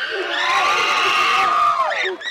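Graduates shout their farewell cheer together, a loud unison crowd yell that rises and holds, then breaks off into scattered whoops at the end.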